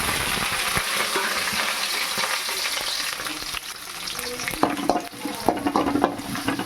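Onions, curry leaves and mustard seeds fry in hot oil with a continuous close sizzle, joined later by sharp pops and clinks of a spoon stirring against the pan.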